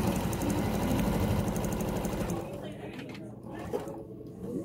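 A sewing machine hums steadily, stitching quilt blocks for a friendship star quilt, running for a few seconds before easing to a quieter rattle, with a voice talking over it.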